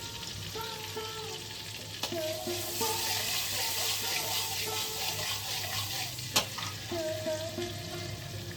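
Butter melts and fries in vegetable oil in a kadai, a soft steady sizzle with faint clinks and scraping of stirring, and a couple of sharp knocks.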